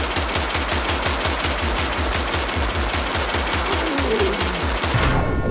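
Rapid, evenly spaced gunfire from gunslinger units in the video game Totally Accurate Battle Simulator, a loud, continuous stream of shots that stops abruptly near the end.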